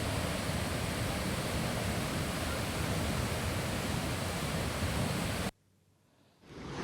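A foaming waterfall pours during monsoon rain in Maharashtra, a loud, dense, continuous rushing roar that holds steady for over five seconds, then cuts abruptly to near silence before noise returns.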